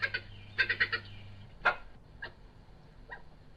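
Recorded badger chirping calls played back outdoors, heard as a handful of short, bright chirps in quick clusters and then sparser single chirps, faint and fairly distant over a low steady hum.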